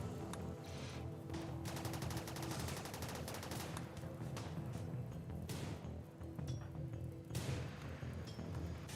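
Rapid gunfire in the video game RimWorld, with shots fired through walls, building into dense overlapping bursts that keep up steadily over a continuous battle din, with no talking.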